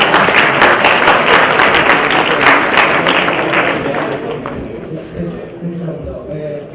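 An audience at a university political talk in a Faculty of Philosophy and Letters bursts into dense, loud clapping that thins out and fades over the second half as a voice carries on.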